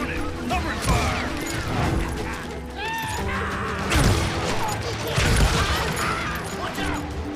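Gunfire in the Call of Juarez Gunslinger video game, with a steady stream of shots, impacts and crashes running throughout, mixed with game sounds and shouted voices.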